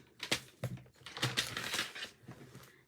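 A paper trimmer slices card stock for a scrapbooking page, making dry, scraping cuts in several uneven strokes that run almost continuously, close and moderately loud.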